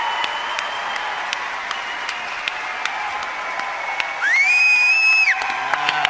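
A convention crowd at a PAX Australia 2017 gaming debate applauds and cheers in a steady, loud wash of clapping, with one long rising whistle near the end.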